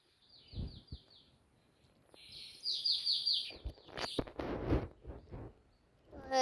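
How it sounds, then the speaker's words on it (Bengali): Birds calling outdoors near a home where pigeons and chickens are kept, with a few repeated chirping phrases and brief rustles and knocks in between, fairly quiet overall. "এখানে পাখি ডাকছে"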